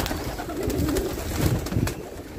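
Homing pigeons cooing in low, throaty repeated phrases, fairly close, with some background noise and no talking.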